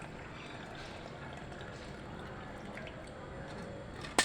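Water poured and trickling steadily while rinsing during household chores, a continuous soft splashing flow at low level, ending with a brief louder knock.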